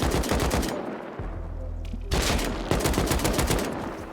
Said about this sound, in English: On hour 52 I heard some gunshots in my area